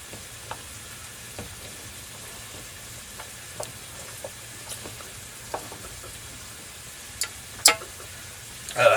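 Rice and egg frying in a pan in a small boat galley for Korean-style bacon and egg fried rice, a soft steady sizzle with faint scattered clicks of stirring, growing slightly louder near the end.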